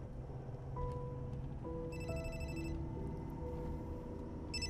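A home landline telephone rings indoors in a steady electronic pattern of repeated tones, loud and unaccompanied by talk, over a low background hum.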